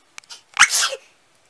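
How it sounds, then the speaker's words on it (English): One sharp, loud sneeze bursts out after a couple of quick inhaling breaths, close up and alone, ending in a short tail. "Bless you. Who sneezed?"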